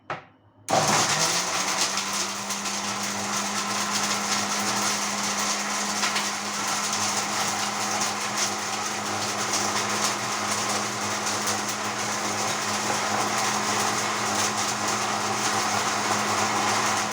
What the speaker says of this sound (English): And I'm going to grind. Put this in my grinder here.